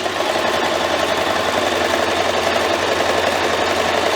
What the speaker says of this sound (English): So we're just gonna top stitch all the way around.